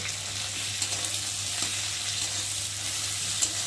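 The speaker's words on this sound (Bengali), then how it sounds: "এখন আমি পেঁয়াজ দিয়ে একটু ভালো করে ভেজে নেব তার সাথে রসুনটাও দিয়ে দিলাম" Onion and garlic fry in a pan with a steady, dense sizzle and crackle, loud and close, with faint stirring clicks and no voices.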